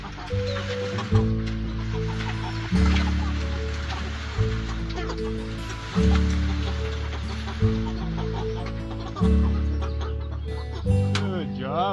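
Farm ducks gather by a freshly filled water tank, giving repeated clucking, quacking calls in steady bursts at close range with light background noise.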